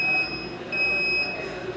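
A hospital bed scale's weight-change alarm gives a steady electronic beep, two thin high tones sounding continuously with a brief dip near the middle, at moderate level with no talk.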